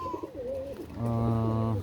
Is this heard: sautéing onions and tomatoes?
no